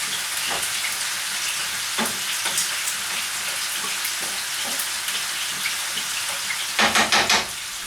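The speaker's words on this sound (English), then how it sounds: "we're going to fry up the hot links and the garlic first." Hot links and garlic fry with rice in a pan, giving a steady close crackling sizzle with occasional sharper pops and a short burst of louder spattering near the end, with no talk over it.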